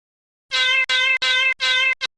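A cat meows four times in quick succession, loud and close, with a short fifth chirp at the end and no talk over it.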